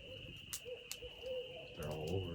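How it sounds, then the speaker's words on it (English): Owls hoot at night in the Adirondacks, a few soft, low calls drifting from a distance over a steady insect drone, with faint rustling and a couple of sharp clicks nearby. "Owls can sound a little creepy at night if you don't know what they are."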